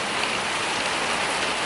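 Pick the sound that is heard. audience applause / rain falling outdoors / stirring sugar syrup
rain falling outdoors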